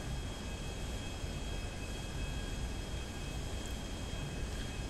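A plane's engine drones in GTA Online, a steady, even roar with a constant hiss and whine holding at the same level throughout, with no talk.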